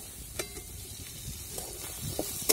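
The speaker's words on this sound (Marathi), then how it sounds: "आता कढईत मग तेल टाकायचंय थोडस" Oil with onion sizzles in a hot kadhai, a soft steady hiss close by with a few faint clinks of stirring and no talk.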